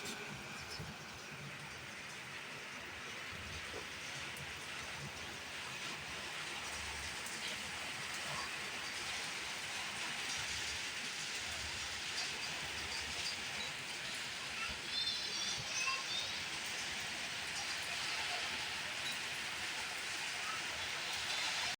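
Heavy storm rain pouring down on a house that is flooding: a continuous, fairly soft wash of rainfall with a steady hiss and no clear breaks, and some voices faintly present.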